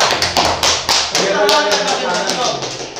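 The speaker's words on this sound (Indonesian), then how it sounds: "Tepuk tangan." A quick burst of audience clapping at a lively quiz-style game round, several sharp claps close together in the first second before voices take over.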